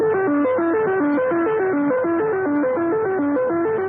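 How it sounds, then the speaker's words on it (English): Axis radio jamming heard across the dial of an ordinary radio set in England: a loud, continuous warbling electronic tone that steps up and down in a steady repeating pattern, distorted and unbroken throughout. "Jamming, by the way, is an Axis monopoly and can be heard all around the dial of an ordinary radio set in"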